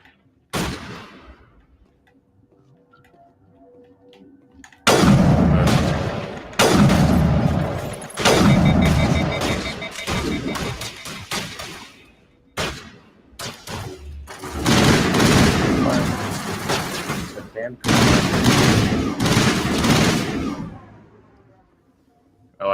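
Assault rifle gunfire in a shooter video game, heard as loud, dense bursts of shots and booms in several clusters over about twenty seconds, with quieter gaps between them.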